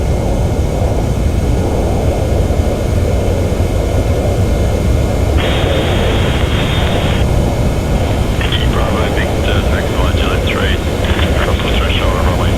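A Qantas 717-200 in the Prepar3D flight simulator taxis after landing at Melbourne Airport. Its jet engines give a loud, constant drone, with brief higher tones layered over it.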